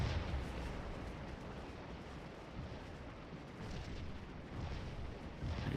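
Distant artillery fire in the Civil War battle game Scourge of War: Antietam rolls as a faint, continuous rumble of booms. The bursts blur into one another, and no voices are heard.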